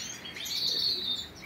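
Caged Spanish-breed song birds chirp steadily, a thin high twittering running through the whole stretch at moderate level with no one talking.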